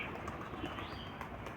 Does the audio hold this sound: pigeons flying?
yes